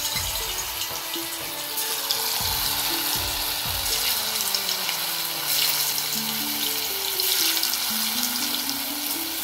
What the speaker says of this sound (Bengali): তেলটা গরম হয়েছে, এখন ছোট ছোট করে বড়টা ভেজে নিব ময়দা।